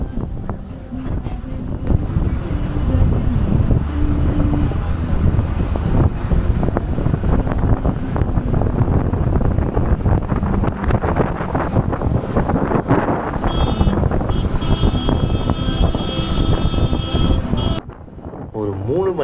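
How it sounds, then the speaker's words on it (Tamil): Strong wind buffets the microphone on a hilltop at Ponmudi in loud, continuous roaring gusts, with a voice talking underneath throughout. "இந்த இடத்துலலாம் சரியான காற்றடிக்குதுங்க"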